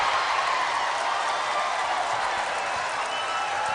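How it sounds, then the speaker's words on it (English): A crowd at a basketball game in a Tallahassee arena, on its feet and cheering with applause as a steady, loud wash of noise throughout. "Crowd on their feet."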